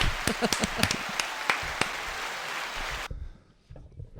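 An applause sound effect plays on a live talk show: steady clapping with a few sharp claps standing out, lasting about three seconds and then cutting off abruptly into quiet.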